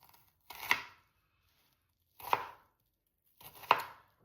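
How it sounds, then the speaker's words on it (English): Onions are chopped with a knife for goat curry, three crisp separate cuts at a slow, uneven pace, close up and otherwise quiet. "cut them up really fast so they don't hurt my eyes"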